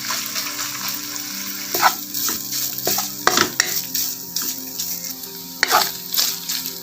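Beef sizzles steadily in a hot pan with garlic, with occasional scrapes and clinks of a utensil stirring it, no voices.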